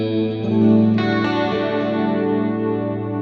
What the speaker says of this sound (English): Some compression, some chorus, some delay, some reverb as well.